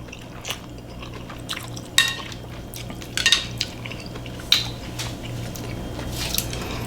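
Spicy Thum Sua, a Lao-Thai khanom jin noodle salad with chilies and tomato, being eaten: soft wet chewing and slurping with sharp clinks of utensils against a dish at irregular moments, close to the microphone.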